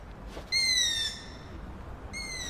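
A young long-eared owl gives drawn-out, high, wavering screeching calls in a city park at night, one long cry followed by the start of another, fairly close over a quiet background.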